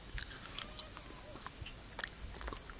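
Someone chewing a ginger paneer snack close up, with soft crunchy bites and wet chewing clicks in an irregular rhythm over a steady low background hum.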